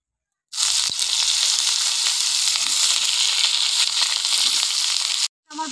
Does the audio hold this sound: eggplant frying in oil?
yes